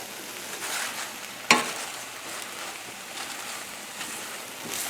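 Fresh spinach frying and being stirred in a hot pan over a raised flame, with a steady soft sizzle and one sharp scrape of the utensil partway through.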